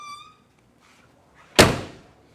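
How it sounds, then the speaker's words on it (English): One solid door of a 1970 Mercury Cougar XR-7 slams shut with a heavy thunk, close and loud, decaying quickly into quiet. "Doors shut nice, no metal on metal groaning, moaning, screeching."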